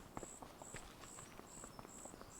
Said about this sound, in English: You hear the crickets? Definitely evening time now.